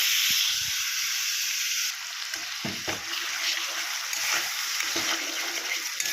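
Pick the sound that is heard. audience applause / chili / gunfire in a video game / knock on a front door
chili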